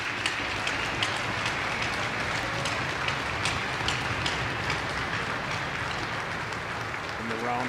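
Steady applause from a large hockey arena crowd at a ceremonial puck drop fills the space continuously, with a soft murmur of voices mixed in underneath.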